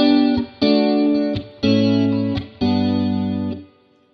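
Electric guitar through a Fender Hot Rod Deluxe amp with reverb, playing four loud sustained chords in a slow rhythm, each ringing out with a reverb tail before the next strum, with no talking.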